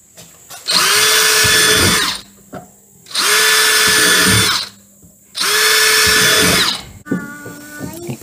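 Cordless power drill boring holes into a broken wheelbarrow for a farm repair: three loud, close whining bursts of roughly one and a half seconds each, separated by short pauses, ending with clicking handling sounds.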